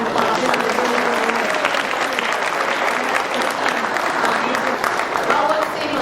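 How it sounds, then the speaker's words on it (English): A crowd at a congressional reception gives a sustained round of applause, dense and fairly loud, with voices murmuring underneath. "Give them all please a round of applause."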